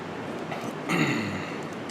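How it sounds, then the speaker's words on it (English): Ceiling fans running in a workshop give a faint, steady whir that fills the whole stretch, swelling slightly midway with no voices over it. "I've got all the fans running, ceiling fans"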